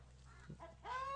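A chicken in a straw-covered permaculture yard gives a short, close cluck followed by a rising, drawn-out call, with faint background hum and no talking.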